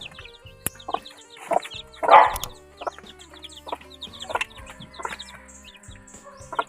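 A hen and chicks hatched from an incubator cluck and peep close by, with soft repeated clucks, a louder squawk in the middle, and thin high chirps scattered throughout.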